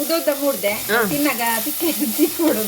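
Spices sizzle steadily in hot oil for a Mangalore-style sardine (mathi) curry with tomato, onion, chilli and ginger, a continuous frying hiss running under a voice with tonal, speech-like sound throughout.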